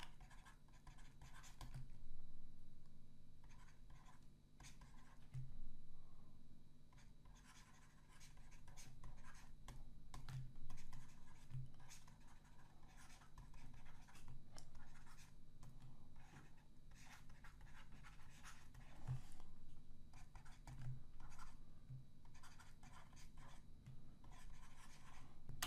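Handwriting scratches faintly across a surface in short intermittent strokes and pauses, quiet and close, with a low steady room hum beneath and no talking.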